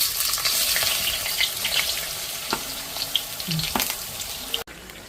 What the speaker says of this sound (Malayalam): എണ്ണയ്ക്കകത്ത് നല്ലപോലെ വറുത്ത് ഫ്രൈ ആക്കി ഇത് രണ്ടും കോരി മാറ്റണം